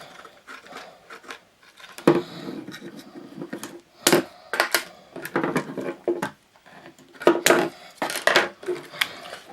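Pieces are snipped off a bottle top slingbow with a series of sharp, close clicks and snaps in irregular bursts, with small plastic rattles between the cuts.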